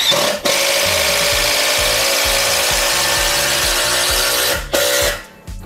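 A Bosch GDX 18V-200 impact driver drives a long 8 cm screw, a loud, close continuous buzzing hammer with rapid rhythmic impacts, briefly pausing once before a final burst that winds down.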